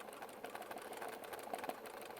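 A sewing machine stitches through a scrap quilt made quilt-as-you-go, its needle giving off a fast, steady mechanical chatter at low volume.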